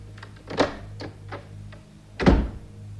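Door sound effects in a 1973 South African radio program: a series of wooden thunks and knocks, with two heavier slams standing out among lighter clicks, no voices.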